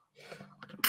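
A single close sneeze bursts out at the very end, after a short stretch of breathy inhalation and building gasps that lead into it.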